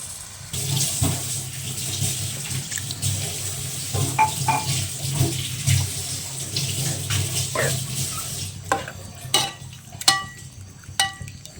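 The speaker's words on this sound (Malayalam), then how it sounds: "വേവാൻ ആവശ്യത്തിന് വെള്ളവും കൂടി ചേർത്ത് കൊടുക്കുന്നു" Water is poured into a pan of prawn head curry with a steady splashing rush for several seconds, followed by clinks and scrapes of a utensil against the pan.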